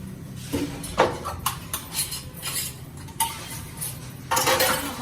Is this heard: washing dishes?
yes